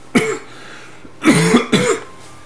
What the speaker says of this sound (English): Oh, excuse me, I'm gonna cough.